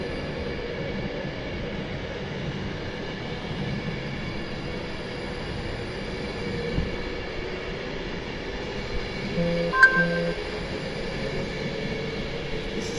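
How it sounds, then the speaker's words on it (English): A train of 11 coaches rumbles steadily past at moderate distance at Warrington Bank Quay station, a continuous low rolling drone with a brief metallic squeal partway through. "Got 11 coaches to go by."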